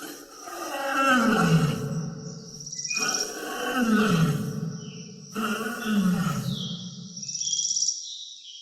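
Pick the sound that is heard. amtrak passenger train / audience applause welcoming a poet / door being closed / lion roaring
lion roaring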